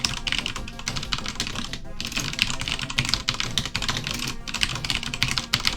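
Fast, steady typing on a computer keyboard at a UnixWare (UNIX System V Release 5) console, close and continuous, with a voice speaking over the key clatter.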